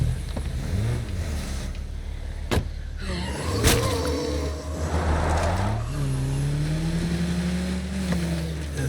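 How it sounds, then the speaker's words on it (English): A car in State of Decay 2 drives off and revs, its engine note climbing and dipping in pitch across the stretch, with a couple of sharp clicks and knocks early on and no voices over it. "It'll be way faster with the car. Let's go take the car."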